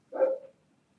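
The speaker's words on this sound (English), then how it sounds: "she's barking like somebody in the yard" A single dog bark, short and fairly close, followed by silence.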